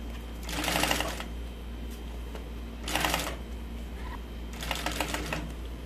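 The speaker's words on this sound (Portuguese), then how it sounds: "Aqui eu já vou costurar direto." A sewing machine stitches fabric straight through in three separate bursts of rapid mechanical clatter, with short quiet pauses in between.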